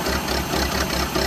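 Rough, unsteady engine idle with a shaking, uneven low thump repeating several times a second, close and continuous, with no voices.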